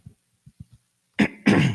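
A few soft throat clicks, then two loud, close, harsh coughs in quick succession.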